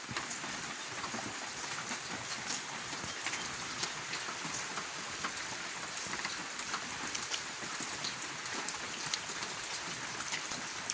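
Heavy rain pours down steadily, a dense hiss of drops pattering on surfaces close by, constant throughout.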